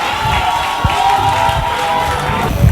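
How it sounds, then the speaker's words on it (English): An audience at a Nigerian comedy show applauds and cheers loudly, with dense clapping and shouts forming a continuous close wash of crowd noise that swells near the end. "Help me with a clap ovation."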